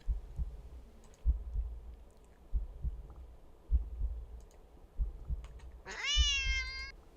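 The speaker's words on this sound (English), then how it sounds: "Kitty cat sound" A cat lets out one clear, drawn-out meow near the end, after a stretch of soft, rhythmic low thumps and clicks with no talking.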